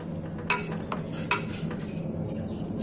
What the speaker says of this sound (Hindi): मिला देंगे इसको नमक को।